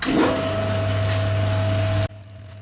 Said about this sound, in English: I've got the lathe here, I might as well use it